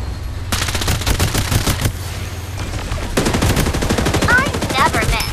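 Gunfire in the shooter game Farlight 84: rapid automatic bursts of evenly spaced cracks, loud and close, broken by a brief pause, with game voice lines and some whistling effects in the mix.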